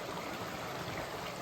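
Water of a stream flows over carved stone in a canyon, a steady, unbroken rushing hiss with no pauses, moderately loud and alone without voices.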